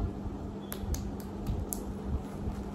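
Light, faint hand claps at home after a parcel is opened: a short series of about five quick, sharp claps close by over quiet room noise.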